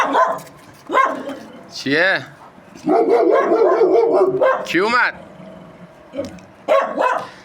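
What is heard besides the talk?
dog barking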